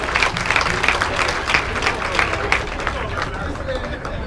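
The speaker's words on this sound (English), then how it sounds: "Give all of these new associates a big round of applause" Crowd applause at a Walmart Supercenter grand opening in Oklahoma City, welcoming new associates: steady dense clapping with cheering and crowd noise that holds throughout, fairly loud and close.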